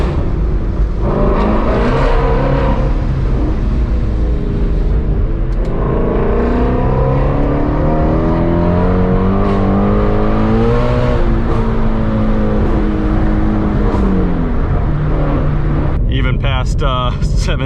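Ford Shelby GT350 engine revving loud at full throttle past 7,000 RPM, rising and falling harmonic tones with a close, steady roar throughout.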